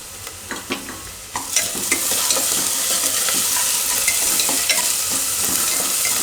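Grated ginger and softened onion are stirred in an oiled pan for Gujarati Sindhi sai bhaji: a few spoon scrapes and taps, then a dense, steady close sizzle with no voices.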